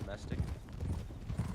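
Horse hooves clip-clopping at a steady riding pace in a Western roleplay video game, close and rhythmic, running under continuous talking.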